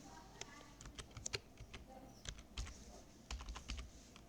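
Irregular clicking of typing on a computer keyboard, quick clusters of sharp key presses with brief pauses between them, close and fairly quiet.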